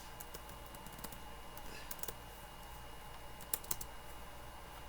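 A password is typed on a computer keyboard in a quiet room, giving faint, close, irregular key clicks in short bursts over a low steady hum.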